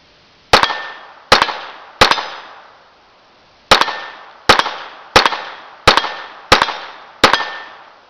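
Browning Buckmark .22 pistol firing nine sharp shots outdoors, three in quick succession, a pause, then six more at a steady pace, each crack loud and close with a short ringing decay.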